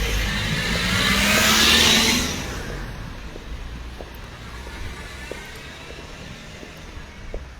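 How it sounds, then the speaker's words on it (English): A V12 car engine revs hard, swelling to a loud roar for about two seconds before dropping back to a low idle rumble, heard alone without talk. "V12 engine."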